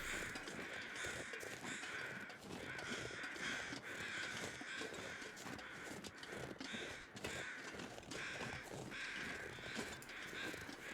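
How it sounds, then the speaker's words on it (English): Crows caw repeatedly in the survival video game The Long Dark, a dense, steady chorus of harsh calls filling the whole stretch at constant loudness with no talking. "We have summoned the crows."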